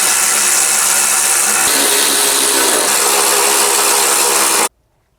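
A power tool runs a loud, steady whir while driving bolts into an AC unit's fan assembly, holding constant for over four seconds before cutting off abruptly into silence.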